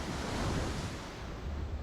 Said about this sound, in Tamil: தண்ணி தான் சத்தம் பயங்கரமாக இருக்குது